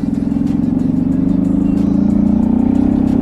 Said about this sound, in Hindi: गौरव ने भाई फिल्टर निकाल रखा है इसका, जिस वजह से साउंड तगड़ी आ रही है इसकी।